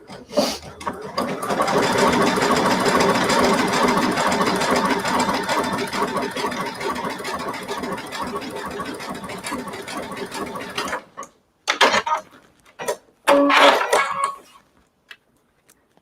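A sewing machine stitching a twin needle embroidery design, a loud continuous rapid mechanical rattle for about ten seconds, then it stops and gives a few short stuttering bursts before falling quiet.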